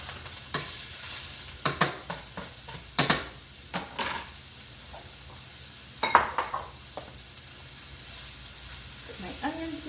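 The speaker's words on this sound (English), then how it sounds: "Now I'm going to add in my onions" Onions sizzle as they fry in a hot pan, a steady hiss of frying broken by sharp clatters as a utensil stirs and scrapes the pan at irregular intervals, with no talking.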